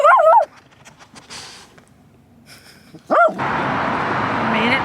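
Dogs at a dog park whimper and yip in short bursts, first a brief high whine, then near silence, then louder whimpering over steady outdoor noise.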